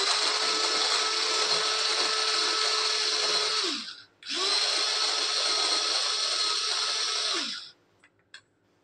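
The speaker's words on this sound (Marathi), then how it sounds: "सगळ्यात आधी मी छोट्या चॉपरमध्ये 5-6 लसणाच्या पाकळ्या घालते आणि हे आपण चॉप करून घ्यायचे" A small electric chopper whirs loudly on garlic cloves in two continuous bursts of about four seconds each, separated by a brief pause and followed by a few faint clicks as it stops.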